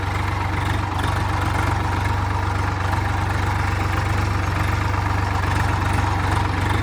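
A Swaraj 744 XT tractor engine runs steadily at idle, a continuous low rumble with no breaks or other sounds.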